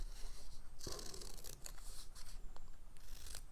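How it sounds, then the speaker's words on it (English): Scissors snipping around a stamped paper image while fussy cutting for a handmade card, a quiet series of close, crisp cuts in an uneven rhythm. "So some people call this fussy cutting."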